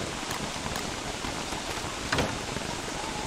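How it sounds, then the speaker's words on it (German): Steady heavy rain in the video game Don't Starve Together, a dense constant hiss with no speech over it. "Ich finde das nicht cool, dass es so fest regnet."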